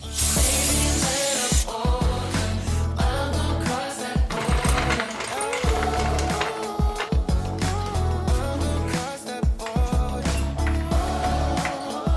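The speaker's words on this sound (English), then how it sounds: "Make sure to clean up the pan area with brake clean so we can get rid of all the previous leaks." Brake cleaner sprays around the transmission pan area of a 1999 Mazda B2500, loud hissing bursts at the start followed by busy clattering and rattling work noise throughout.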